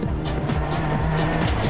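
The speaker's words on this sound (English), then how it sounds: "This is the Ford of Cordoba-born Marcus Legato" Ford WRC rally car at Rally Argentina 2005, loud engine roaring with rapid rev changes and gear shifts, close and continuous with no talk.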